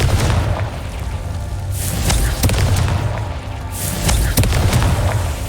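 A Confringo blasting spell explodes in Hogwarts Legacy, giving loud booming bursts over a dense, rumbling game soundscape, with several heavy blasts following one another.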